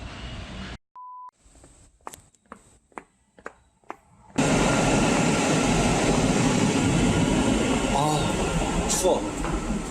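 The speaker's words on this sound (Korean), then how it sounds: "생각보다 일찍 도착했기에 조금 기다려 지하철에 탑승합니다" Inside a subway train: a tone and a run of sharp beeps sound over quiet background noise, then a loud, steady rumble of the moving carriage takes over and keeps on to the end.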